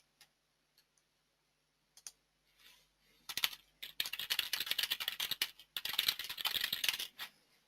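Typing on a computer keyboard: a few scattered clicks, then a rapid, irregular run of keystrokes heard close and alone.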